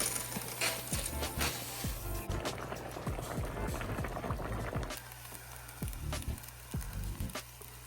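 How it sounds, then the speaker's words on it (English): Water bubbling and simmering in a shallow pan, with irregular clinks and knocks on top of the steady boiling noise. "So we're gonna boil these noodles in here."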